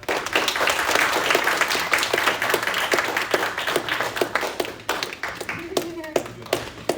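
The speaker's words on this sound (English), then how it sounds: "can we get a round of applause?" An audience at a law student society debate event applauds, with brisk overlapping claps that thin into scattered individual claps toward the end, and a voice speaking briefly near the close.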